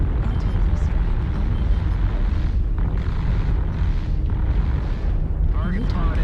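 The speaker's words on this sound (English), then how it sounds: "Artillery strike." Artillery strike explosions in the mech combat game MechWarrior Online, a dense, continuous rumbling roar of blasts and booms that stays loud throughout, with a faint voice briefly audible.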